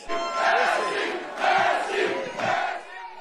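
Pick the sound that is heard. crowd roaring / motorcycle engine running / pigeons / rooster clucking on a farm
crowd roaring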